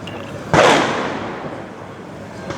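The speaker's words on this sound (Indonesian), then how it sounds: "dengar lagi suara petasan" A single sharp firecracker bang bursts once during a tense night protest in Jakarta, heard from roughly 50 to 70 meters away and trailing off into crowd noise, with a faint pop near the end.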